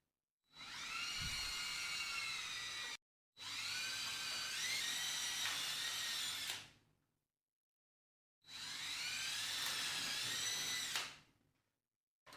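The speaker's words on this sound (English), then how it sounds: "Now pre-drill your holes with a 1/8 drill bit." A high-pitched electric drill with a 1/8 bit pre-drills screw holes in three long bursts, each several seconds, separated by short silences, close and steady.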